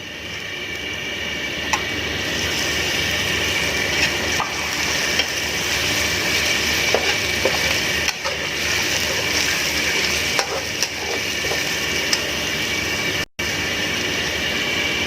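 Loud continuous sizzling of chicken frying in a hot pan for a restaurant-style chicken gravy, with occasional scrapes and stirs, steady throughout and close up.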